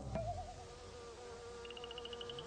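Bumblebees buzz around garden flowers with a soft, steady drone and a thin higher whine rising toward the end, faint and without talk.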